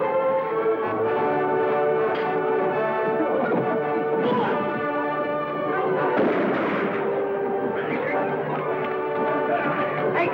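Gunfire in a 1949 western movie fight: sharp bursts of shots and rumbling booms crackle through a thick, continuous soundtrack of music and commotion, with voices shouting in the mix.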